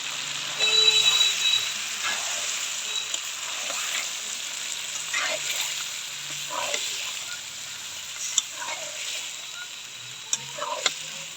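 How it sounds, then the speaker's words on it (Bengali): Goat meat for a pulao meal gets stirred in a hot pan, a continuous frying hiss broken by regular scraping strokes of a ladle against the metal, with no talk. "সাথে মাংসটা ভালো করে মিশিয়ে নিচ্ছি"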